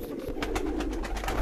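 A grey pigeon, about four years old, coos in a low repeated throaty murmur, close and fairly quiet, with a soft background hiss.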